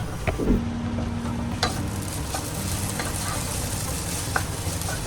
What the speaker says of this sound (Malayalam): ഇളക്കി കൊടുത്ത് നമുക്ക് വേവിച്ചെടുക്കാം.